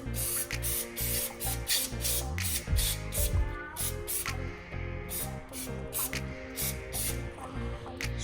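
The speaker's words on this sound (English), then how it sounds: "Spray that around there." Aerosol cleaner sprayed around a Harley-Davidson motorcycle during an oil change, a series of sharp hissing bursts in irregular rhythm with mechanical clicks under a faint background hum.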